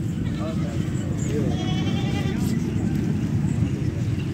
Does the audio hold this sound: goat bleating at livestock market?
yes